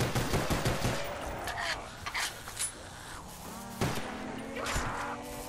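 Rapid video game gunfire from a Call of Duty Zombies match on the Ascension map, with dense bursts of shots at the start and scattered shots and effects later, all fairly loud and continuous.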